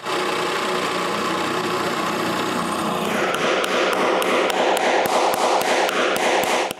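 Metal drill bushings hammered into a wooden dowelling jig block, a run of sharp, evenly spaced close taps ringing over a steady machine hum.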